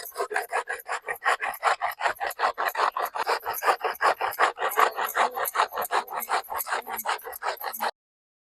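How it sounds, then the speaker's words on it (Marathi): Cabbage is grated finely on a hand grater in fast, even rasping strokes, roughly four per second, close and loud for about eight seconds before stopping abruptly, with no voices. "आता एक किसणीवर असा बारीक किसून घ्यायचा"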